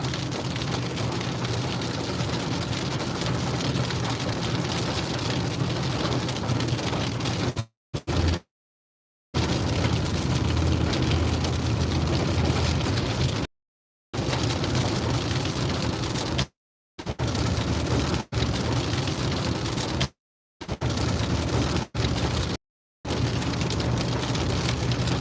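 Rain pours steadily from a supercell storm in Kansas, a dense, loud hiss broken by several short dropouts, with no distinct thunderclap standing out.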